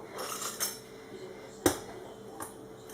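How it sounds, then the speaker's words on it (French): Two garlic cloves crushed on a kitchen counter while cooking a beef tajine, giving a few sharp isolated knocks and clinks, with one loud crack in the middle and fainter taps around it, close and otherwise quiet. "J'ai 2 gousses d'ail que je vais juste écraser"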